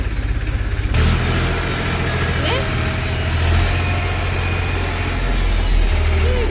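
A tractor engine running nearby on a village farm, a loud steady rumbling idle that keeps going throughout, with people talking over it.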